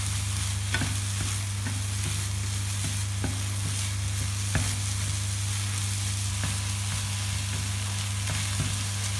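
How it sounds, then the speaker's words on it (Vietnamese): Instant noodles stir-fried in a pan, a steady close sizzle under repeated scrapes and clacks of the spatula against the pan, with no voices. "Chúng ta chỉ cần xào vào khô ạ và nó săn lên là được"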